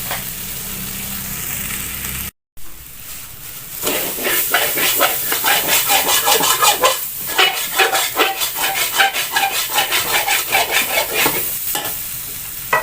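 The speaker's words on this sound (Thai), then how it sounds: "คั่วพริกแกงหอมก่อน" Curry paste being stir-fried in a pan for a Northern Thai dish, a steady loud sizzle with scraping stirring strokes after a brief silence near the start, continuous and close.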